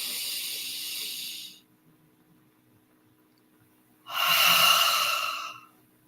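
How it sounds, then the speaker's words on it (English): A slow deep breath, inhaled through the nose and exhaled through the mouth, sounds as two airy hissing passes separated by a pause, close and clear, with the second stronger than the first. "inhaling through the nose and then you exhale through the mouth."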